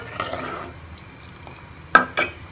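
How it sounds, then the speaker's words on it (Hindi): A spoon stirs sugar into boiling milk in a metal pot, a soft scraping swirl early on, then two sharp clinks of utensil against the pot near the end, close and fairly quiet. "इसके अंदर मैं ये चीनी डाल दूंगी और इसको अच्छी तरह से मिक्स कर लेंगे"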